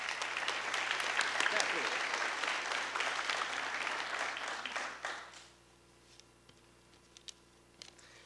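Audience applause at an evening awards ceremony welcoming a speaker, a loud sustained clapping that fills the hall for about five seconds before tapering off into near silence with a few faint scattered sounds.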